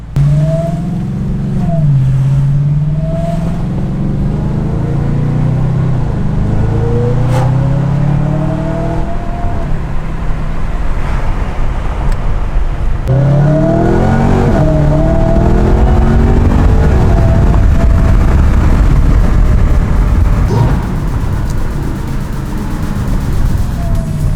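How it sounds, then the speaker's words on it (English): A Whipple supercharged Audi RS5 drives and accelerates, its engine note rising and falling through repeated loud revving pulls from inside the car, with a sustained roar in the second half. "we are currently taking the Whipple Supercharged RS5 out on its first drive"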